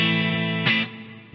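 Electric guitar played through an amp on its clean tone with the pedals bypassed and a touch of reverb: one sustained chord ringing, then a second brighter strum that quickly decays.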